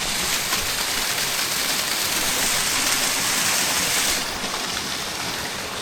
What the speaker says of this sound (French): Je crois que j'ai trouvé la cascade.